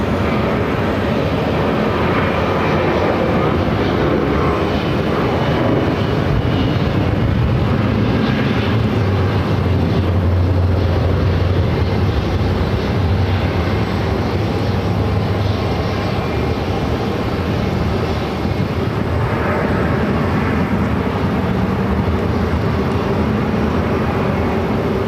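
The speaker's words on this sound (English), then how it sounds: "It's American Airlines Flight 1330, coming in from Philadelphia on an A321neo." An American Airlines Airbus A321neo jet landing at Phoenix airport, with a steady, loud roar of its engines sustained throughout, broad and rumbling, with no talk.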